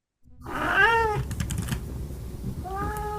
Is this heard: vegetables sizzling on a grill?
no